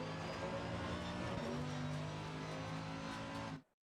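A race car in a racing video game accelerates hard, its engine note a loud, sustained, rising roar that runs steadily and then cuts off abruptly at the end.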